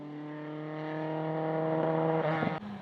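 A Ford Escort historic rally car's engine runs rough at the low end on a New Zealand gravel stage, a steady buzzing drone that swells louder, then drops off abruptly near the end.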